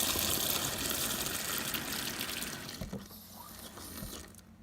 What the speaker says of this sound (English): And turn on the water.